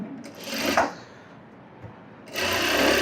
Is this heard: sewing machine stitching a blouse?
yes